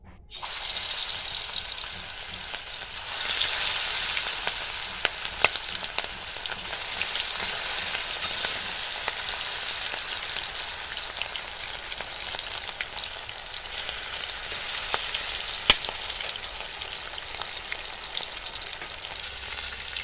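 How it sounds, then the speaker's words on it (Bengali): Chicken pieces frying in hot oil for chilli chicken, a dense steady hiss and crackle of sizzling fat that holds loud and close throughout, with occasional sharper pops and faint utensil clicks. "তেল গরম হয়ে গেছে, মাংসগুলো ভেজে নেব।"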